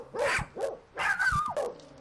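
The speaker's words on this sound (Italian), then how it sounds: "Hope e Lady hanno fatto la loro parte, abbaiando a più non posso" Two dogs, Hope and Lady, bark in a quick series of close, loud woofs, four or five barks in rapid bursts with short gaps, with no talking.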